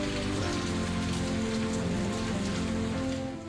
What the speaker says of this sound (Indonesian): untuk menampung air hujan yang cukup banyak ini?